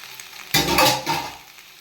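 Marinated Bombay duck fish drops into a pan of frying onion, ginger, garlic and tomato, setting off a sudden loud sizzle that surges, then eases into a softer crackle.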